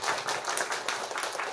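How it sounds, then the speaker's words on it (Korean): A church congregation claps together, a brisk, dense burst of many hands in quick rhythm, close and fairly loud, lasting under two seconds without talk. "자, 박수 한번 하겠습니다."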